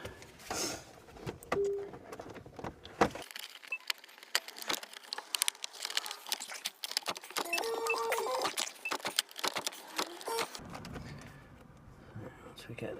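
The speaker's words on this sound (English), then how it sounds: "I'll take the key out." A car key is drawn out of the ignition of a VAG car during a steering lock repair, giving a few short metallic jingles and clicks between spells of close, quiet talk.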